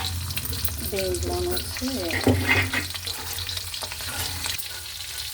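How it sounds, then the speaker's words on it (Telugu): A tempering of cumin seeds and green chillies crackles and sizzles in hot oil, a steady close frying hiss with a few stirring knocks, while someone speaks briefly over it. "ఇప్పుడు ఇందులో జీలకర్ర, పచ్చిమిరపకాయలు పోపు వేస్తాను"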